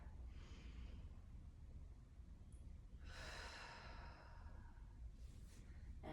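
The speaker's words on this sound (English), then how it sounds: "1 more breath." Slow, deep breathing at the end of an abs and breath workout, a few long airy inhales and exhales, close and soft over a low background rumble, no talking.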